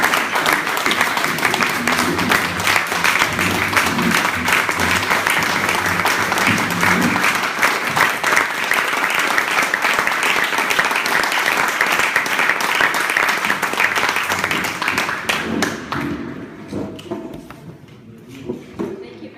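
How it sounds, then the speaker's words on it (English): An audience gives sustained applause after an icebreaker speech at a Berlin gathering. Dense clapping holds steady for about fifteen seconds and then fades, with a few voices under it. "have a stand-up applause for the icebreakers"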